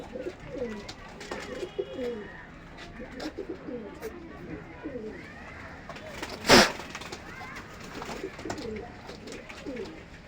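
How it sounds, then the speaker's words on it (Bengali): A pair of teddy pigeons at a pigeon market in Gallamari, Khulna, coo in soft, repeated throaty phrases close by. Someone talks over them, and a sharp knock sounds midway. "এই এক পেয়ার কবুতর আছে টেডি কবুতর"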